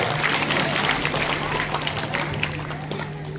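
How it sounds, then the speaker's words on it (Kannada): Audience at a religious discourse clapping, a dense, loud burst of hand clapping from a crowd that gradually thins out. "ಕೈ ಮೇಲೆ ಜೋರಾಗಿ ಚಪ್ಪಾಳೆ ತಟ್ಟಿ"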